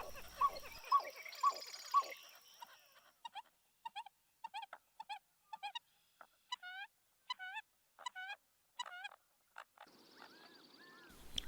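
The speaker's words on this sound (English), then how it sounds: "This raft of ringneck ducks are medium-sized diving ducks" Waterfowl calling on Horseshoe Lake, including ringneck ducks and American coots: a series of short, clipped, repeated calls in quick bursts with quiet gaps, fairly faint and moderately distant.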